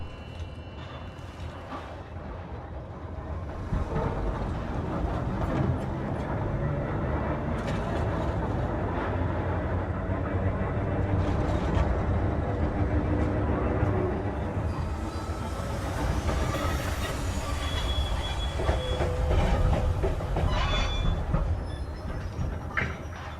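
Tram ride in the sci-fi video game Cronos: The New Dawn, a loud, continuous rumble of rail wheels and rolling carriage with a rhythmic clatter and occasional metallic squeal, sustained throughout.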